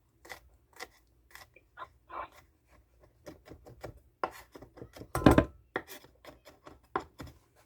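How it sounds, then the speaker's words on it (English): Crushed garlic is minced with a knife on a board for spaghetti sauce: irregular, quiet dry chops and scrapes in short bursts, with one louder thud near the end and no talk. "I'm just going to pop my garlic just like so. And then I'm going to just mince it."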